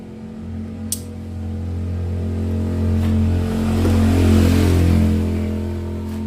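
A carbureted Yamaha Xeon motorcycle engine cranks on a new starter part and fires up, settling into a steady close idle that swells briefly as the throttle opens, with a sharp click at the start.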